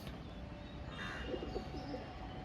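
A male Giriraj homer pigeon cooing softly, a faint low coo rising briefly over a quiet, noisy background without speech.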